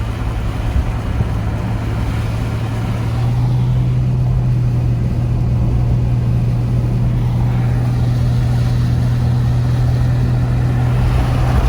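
A car cruises along a road beside a lake toward Big Bear during a spring snowstorm, a steady engine hum and road noise that holds through the whole stretch, close and constant, with no talk.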